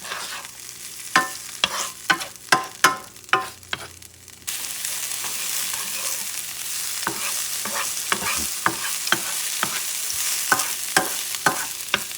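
Food caramelizing in a pan with a little oil, a steady sizzle throughout, broken early on by a string of sharp scraping stir strokes, then a louder continuous frying hiss with occasional clinks and scrapes.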